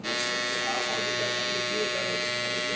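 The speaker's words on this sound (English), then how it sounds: "with coarse eyebrows, come on, you gotta use the trimmer." An electric hair trimmer works on coarse eyebrows, giving a continuous close, steady buzz for the whole span without pause.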